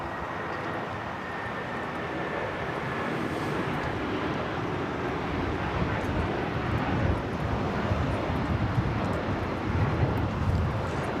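A United Airlines Boeing 757-300 taking off from LAX bound for Chicago, heard as a fairly distant, steady jet rumble that gradually builds in loudness over several seconds.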